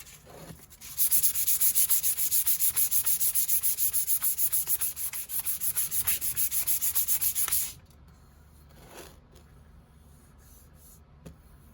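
A blade scrapes back and forth across a 1000-grit sharpening stone in quick, rhythmic strokes, loud and close, then stops, leaving quiet scattered clicks.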